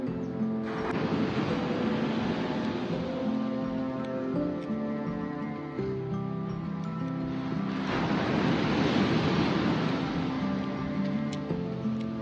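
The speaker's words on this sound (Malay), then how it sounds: "Dia tahan ombak dia tinggi." Sea waves on the shore at Koh Kradan, Thailand, a steady roaring wash that swells and surges twice, with wind noise buffeting throughout and no talking.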